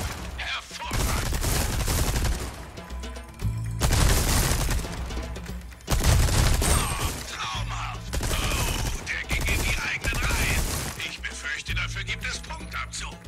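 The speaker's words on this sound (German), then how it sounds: "die Maschinenpistole, um kurzen Prozess mit den Zielscheiben zu machen" Submachine gun fire rattles at shooting range targets in Resident Evil 4 Remake, loud rapid bursts with short pauses between them, while music plays underneath.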